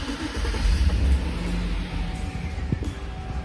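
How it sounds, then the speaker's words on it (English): A 2011 Chevy Suburban engine cranks and catches, settling into a steady rumbling idle, close and fairly loud with no talking. "Ignition on, let's start the car."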